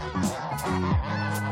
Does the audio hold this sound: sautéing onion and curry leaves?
no